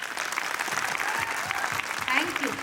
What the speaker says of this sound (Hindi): अगर अच्छा लग रहा हो तो ताली बजाते रहिएगा